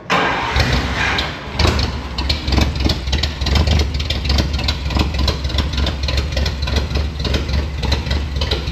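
A 1956 Dodge Power Wagon truck engine cranks and catches, then settles into a loud, rough, rhythmic idle close by, with no one talking.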